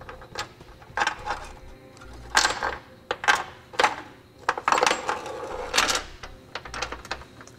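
Half-inch carriage bolts with spacer blocks fed into the steel frame of a 2015 Subaru Outback wagon for a Curt trailer hitch, a series of close metallic clinks, rattles and scrapes in uneven bursts, with no speech.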